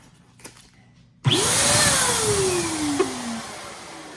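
A blower switched on abruptly after quiet handling noises, a loud continuous whirring roar with a sweeping, falling pitch as it runs, used to stretch material for a Pringles-container graduation cap.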